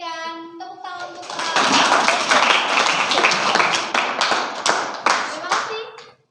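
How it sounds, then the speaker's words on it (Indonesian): A classroom group claps together, building from a brief voice into a close, brisk burst of hand clapping that carries for several seconds and then fades out abruptly. "berikan tepuk tangan untuk"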